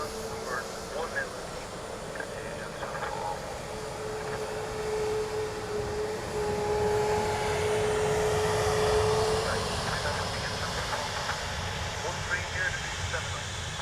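At Dublin Airport, a Ryanair airliner arriving from Malaga produces a broad jet roar that swells in the middle and then eases off, with a tonal whine running through it. Voices talk faintly underneath.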